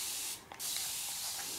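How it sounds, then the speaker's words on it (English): A fine mist of water hisses from a spray bottle onto a leaf holding Peruphasma schultei stick insects, a close, continuous spray with one brief pause, alone without talk. "If I spray the leaf with water, maybe they'll sit still, because they are usually thirsty."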